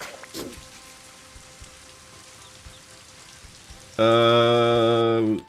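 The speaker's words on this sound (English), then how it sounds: "We got rain." Steady rain patter on a surface in the background, continuous and moderately loud, interrupted near the end by a loud sustained harmonic tone that starts abruptly.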